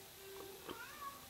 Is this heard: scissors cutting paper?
no